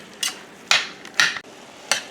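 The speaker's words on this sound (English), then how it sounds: "I'm just going to stir this and let it brown." Ground beef browning in a pan is stirred, giving four quick scraping strokes spaced apart over a soft background hiss.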